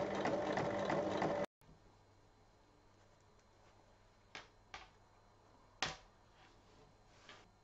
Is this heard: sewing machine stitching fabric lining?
yes